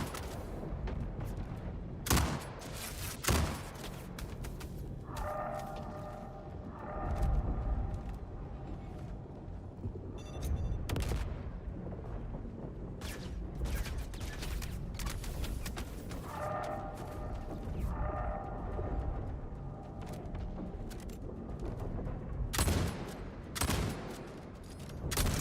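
Gunfire from a weapon in the video game Star Citizen rattles in repeated rapid bursts over a steady mix of game sound, loud and close, with the recoil-driven shots coming in jumpy clusters.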